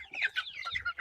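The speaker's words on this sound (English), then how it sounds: "We did add one Easter egger rooster into here also" An Easter Egger rooster clucks in a quick run of close, bright calls, several short clucks following one another within a second with no talk over them.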